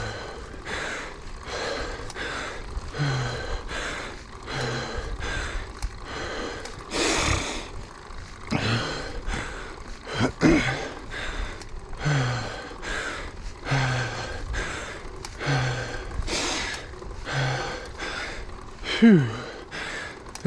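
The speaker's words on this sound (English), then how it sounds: "My breathing is suffering." A mountain biker breathes heavily and rhythmically in hot weather near Steamboat Springs, with loud, close gasping breaths repeating steadily over trail and wind noise.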